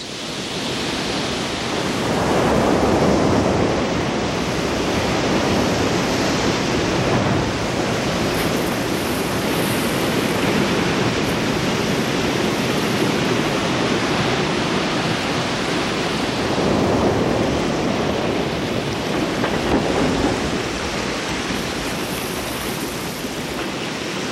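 Giant slabs of ice churning frigid Patagonian water into waves, a loud continuous roaring wash with slow surging swells throughout, no voices.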